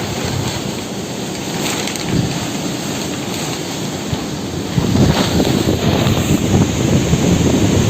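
Heavy rain from Typhoon Rolly pours down with roaring gusts of wind, a loud continuous storm that grows stronger partway through, with no voices.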